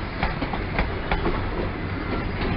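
An HST train runs through Exeter St Davids station, a loud continuous rumble with rhythmic clickety-clack wheel beats close by and no talking.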